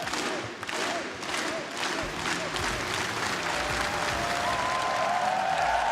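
Esports arena crowd at the Rocket League Championship Series Season 5 Grand Finals in Utopia Coliseum, cheering and applauding loudly and continuously, a dense steady roar of claps and shouts with no pause.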